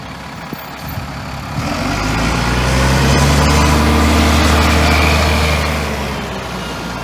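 An ALX 400 bus at Gainsborough Bus Station, having just arrived from Lincoln, runs its diesel engine with a loud, steady idle that swells and holds, heard close and alone.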